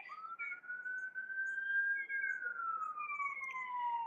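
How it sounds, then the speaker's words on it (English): A lone emergency siren wails far off, its pitch rising slowly and then gliding back down. It sounds faint and thin over a quiet background. "And you have sirens in the distance."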